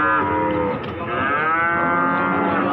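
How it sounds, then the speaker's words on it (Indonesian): An Ongole crossbred (PO) cow moos at a cattle market, a long, loud, sustained low bellow that fills the clip with no talk over it. "Seperti ini ada sapi PO betina."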